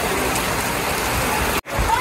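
Heavy rain pours down over an open-air cattle market, a dense, steady hiss of rainfall on surfaces, briefly cutting out before resuming, with faint crowd noise underneath.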